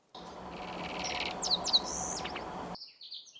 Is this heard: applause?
no